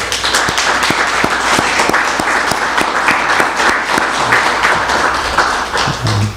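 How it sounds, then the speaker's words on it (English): A room of guests at a bank's $10 million donation announcement breaks into loud, sustained applause, with thick overlapping claps and some distinct sharp slaps running the whole time. "And I think that's worth a round of applause."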